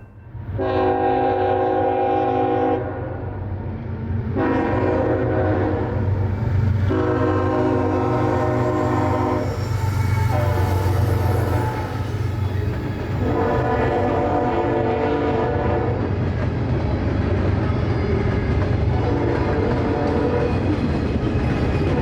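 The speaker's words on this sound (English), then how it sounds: "647 would break the silence of the quiet downtown." A CSX southbound manifest freight train, M647, sounds repeated long horn blasts while rolling through a quiet downtown at night, loud and close over the steady rumble of the passing cars.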